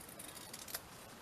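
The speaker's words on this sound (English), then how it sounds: "I'm just going to cut around it" Scissors snip through stiff fabric being cut into a kite shape, with a few soft, close cuts and one slightly stronger snip over a faint steady hiss.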